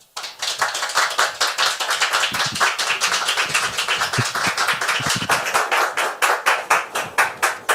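Studio audience applauding to welcome a guest onto a French talk show, crisp rhythmic clapping that builds quickly and stays steady and fairly close, with no talking over it.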